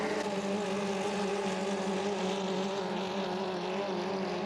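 Racing hydroplane boats with 2.5-litre engines at a St-Félicien race accelerate past a dock, a loud, steady, high-pitched engine roar that fills the whole stretch with no voices.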